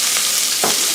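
Onion dropped into a hot pan for chicken cacciatore, giving a steady bright sizzle with two short bursts of louder crackle as pieces hit the oil.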